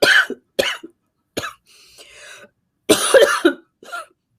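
Several people coughing in a breathing exercise class, a series of short harsh coughs in bursts with brief pauses and a softer breathy stretch between them, close and fairly loud.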